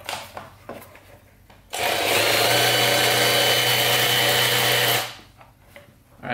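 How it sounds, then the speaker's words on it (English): Power drill spinning the speedometer gauge cable of a Polaris 500 4x4 ATV, a loud steady whirring burst of about three seconds, close up, with quieter handling noises before and after. "We're gonna hook up a drill to it and spin it, see what happens."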